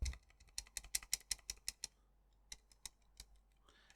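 Repeated sharp clicks of a Steam Deck select button pressed close to the microphone, a fast run of about a dozen crisp taps, a brief pause, then several more scattered clicks.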